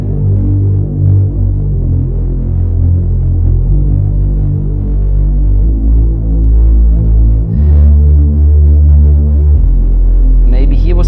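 Deep synth bass holding a single sustained tone in an electronic music mix, throbbing steadily and loudly throughout, with a brief higher-pitched sweep near the end.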